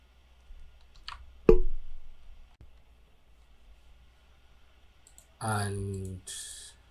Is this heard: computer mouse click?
yes